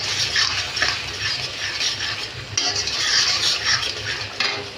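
Bengali masala spice paste being stir-fried in a pan, with repeated scraping and stirring strokes over a soft sizzle, close and moderately loud, no talking.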